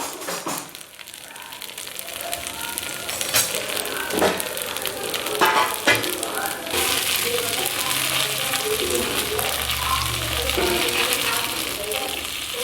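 Masala idli pieces frying in a pan until browned, a steady close sizzle with scattered crackles and stirring scrapes, faint low background hum alongside.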